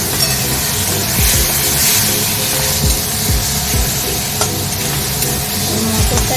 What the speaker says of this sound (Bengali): তারপরে এই জিরে ধনে জিরেটা দিয়ে জল দিয়ে দিয়ে দেবো